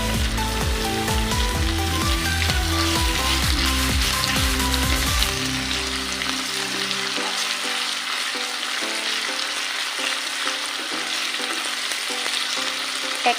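Ginger-garlic paste frying and sizzling in a pan for duck curry, a steady dense crackle with stirring scrapes over the first half, then a softer continuous sizzle; no talking.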